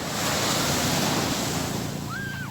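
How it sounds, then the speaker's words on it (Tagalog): Loud, continuous roar of large ocean waves crashing and surging nearby, with wind noise buffeting the microphone. "Super laki ng mga alon."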